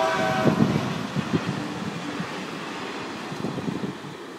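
A train rumbles by at a moderate distance near a bay dock, a steady low roll with faint wind, no voices.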